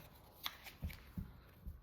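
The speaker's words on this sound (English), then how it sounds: "Okay, so let's shuffle" Soft riffling and tapping of cards being shuffled, a few quiet bursts in a hushed room.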